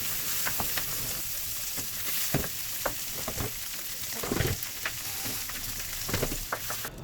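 Prawns sear in hot oil for fried egg noodles, a steady crackling sizzle broken by sharp spatula scrapes and clacks against the pan, close and fairly loud, with no talking.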